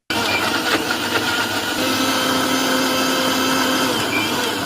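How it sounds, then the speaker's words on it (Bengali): An old blender whirring as it blends lemons, starting abruptly and then running as a loud, steady motor drone with a slight shift in pitch partway through. "এখন আম্মু ব্লেন্ড করবে"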